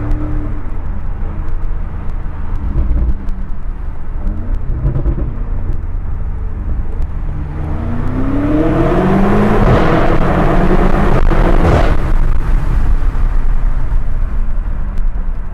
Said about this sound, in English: The V8 sounds phenomenal. It's really, really a spectacular motor.